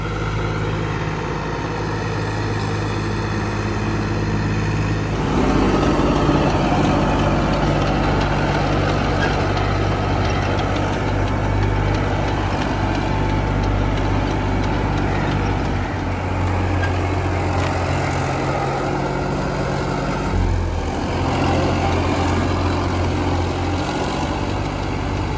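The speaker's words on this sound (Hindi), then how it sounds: "ट्रैक्टर आ चुका है" A tractor engine runs on a farm field, a loud continuous low idling drone with steady harmonic hum that swells slightly midway and persists throughout without talk.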